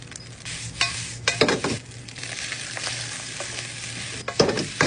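A steak sizzles steadily in a hot pan while being stirred, with sharp scrapes and utensil clatter against the metal breaking through the frying hiss, close up and with no talking.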